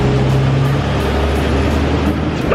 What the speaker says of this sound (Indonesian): banyak truk di sini yang lewat depan nih